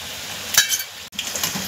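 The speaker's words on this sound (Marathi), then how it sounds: "आता एका बाजूने व्यवस्थित फ्राय झाल्यावर आपण दुसऱ्या बाजूने पण व्यवस्थित गोल्डन ब्राऊन होईपर्यंत फ्राय करून घ्यायचे" Colocasia-leaf alu vadi slices sizzling in hot oil in a pan, a steady close frying hiss broken by a brief metal clink of a utensil.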